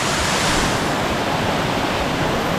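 Powerful waterfall on the Bluestone National Scenic River, a loud, steady broadband roar of rushing water heard up close with no talking.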